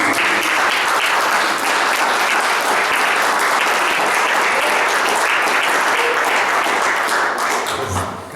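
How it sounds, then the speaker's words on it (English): An audience at a social gathering bursts into loud, sustained applause for Ken Dahl, dense clapping that holds steady for several seconds and then begins to taper off. "ask everybody to clap their hands for your involvement in that"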